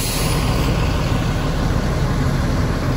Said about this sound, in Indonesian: ini bis kami malah mau parkir mundur sekalian